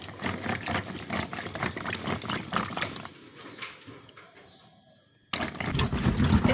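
Arvi (taro root) gets washed under water in a kitchen sink. A running tap splashes and gurgles as the roots are handled, quiets briefly, then rushes back on strongly. No voices are present.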